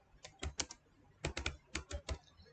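Code being typed on a computer keyboard: three quick bursts of sharp key clicks, several strokes each, separated by short pauses, close and clear.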